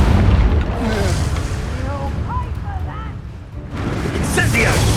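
Magic spells burst and boom in the video game Hogwarts Legacy, giving dense rumbling blasts with crackling bursts, layered under excited voices.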